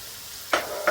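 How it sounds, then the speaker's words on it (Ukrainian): Sizzling of onions and flour frying in a pan, with two brief scraping stirs breaking through the steady hiss. "Відразу перемішуємо і смажимо до напівпрозорості"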